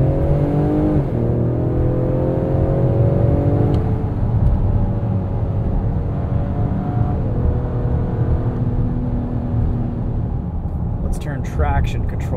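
A Ford Explorer ST launches from a standstill with traction control off, the engine revving and climbing in pitch through successive gear changes, loud and close, with a short burst of other noise near the end.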